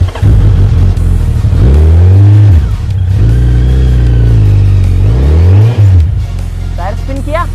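A Suzuki Hayabusa motorcycle, pulling a heavy disc harrow on farmland, revs hard and loud in long rising and falling sweeps as its tyre spins, with a brief dip before a final surge.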